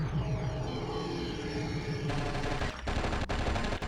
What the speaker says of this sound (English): Oh god, there's turrets.